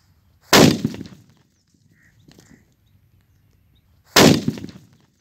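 A sutli bomb firecracker blasts twice against a custard apple outdoors, two sharp loud bangs a few seconds apart, each with a short rattling tail, and a faint brief sound between them.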